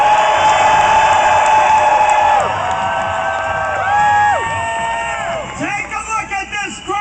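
A large rally crowd in Madison, Wisconsin roars with cheers, whoops and shouts, loud and sustained at first, then easing into scattered yells and bursts of clapping.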